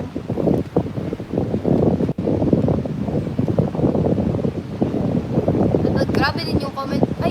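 Strong wind buffets the microphone in loud, uneven gusts throughout, with a voice briefly audible near the end.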